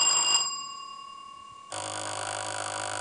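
A quiz contestant strikes a bell at a school science contest, giving one clear bright ring that sustains and slowly decays, then is cut off by a louder wash of room noise.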